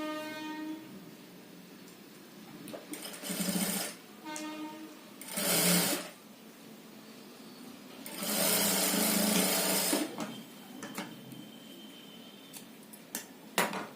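A sewing machine stitching the folded side lining of a plain net pavada, running in several bursts of rapid whirring, the longest about two seconds, with quieter handling in between.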